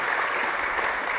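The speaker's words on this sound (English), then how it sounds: "Can we have a round of applause for our panelists" Audience applause for a conference panel at a summit, a brief, steady burst of clapping from a crowd with no break in it.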